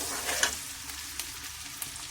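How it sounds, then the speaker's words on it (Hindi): Chopped onion shallow-fries in a pan with a steady, close hiss of sizzling oil and a few faint stirring knocks, with no talking. "चॉप्ड ऑनियन, 2 मिनट फ्राई करेंगे, शैलो फ्राई।"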